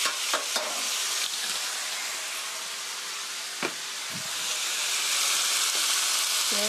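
Pork stir-frying in a hot pan after rice wine is added: continuous loud sizzle and hiss, with a few sharp scrapes and taps of a utensil stirring, close up and without talk.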